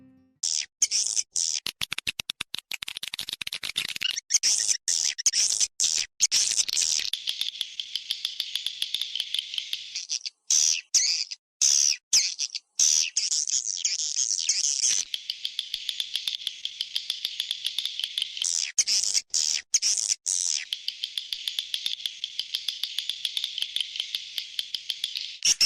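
Recorded swiftlet call sample used to lure swiftlets, a dense run of sharp, high chirps and twitters in rapid pulsing bursts, loud and close, with brief gaps, no voices.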